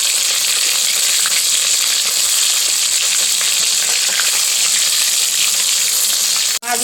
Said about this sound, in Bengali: মাছগুলো আমার লাল লাল করে ভাজা হয়ে গেছে